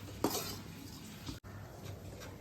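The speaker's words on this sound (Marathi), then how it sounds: "बारीक गॅसवरती हे मिश्रण चांगले हलवत परतून घ्यायचे आहे" Powdered dry dates and coconut being stirred and roasted in a kadai over low heat, with soft scrapes and light clinks of a spoon against the pan over a faint background hiss, fairly quiet and close.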